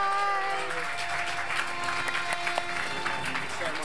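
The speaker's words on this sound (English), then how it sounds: "Clap that man because he's clever and say goodbye." Audience clapping at a live video game quiz show at the Royal Institution, a steady full wash of applause filling the room, with voices and cheers faintly mixed in and tonal chatter over the start.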